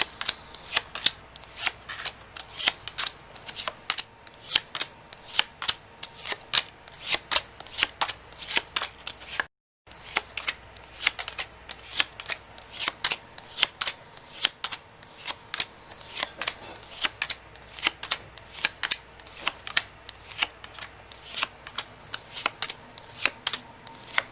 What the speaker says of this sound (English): And it's time to quit shuffling.